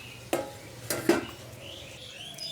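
A spoon stirs vegetable peels in a pot that gets covered, giving a few sharp metallic clinks and scrapes spaced apart over a quiet kitchen background.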